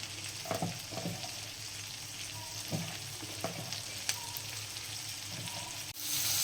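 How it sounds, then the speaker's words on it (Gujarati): Sliced onions sauté in melted butter for a Mexican vegetable cheese sandwich, giving a soft, steady sizzle with occasional spoon scrapes and clicks against the pan, fairly quiet and close, with no voices. "ચલો આપણું બટર મેલ્ટ થઈ ગયું છે. તો આપણે હવે એમાં ઓનિયન એડ કરીશું"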